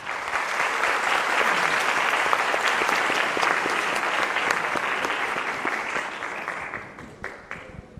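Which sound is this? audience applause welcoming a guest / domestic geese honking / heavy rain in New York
audience applause welcoming a guest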